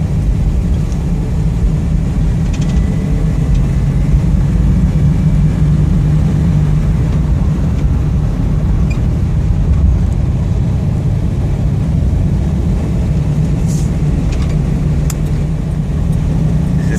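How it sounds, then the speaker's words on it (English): A 1994 Chevy Astro van with a wheelchair lift and 122k miles cruises at highway speed. Its engine and road noise form a loud, steady low drone that runs without a break and with no talking. "Take it out on the highway, let you hear the motor run, and shift through all the gears"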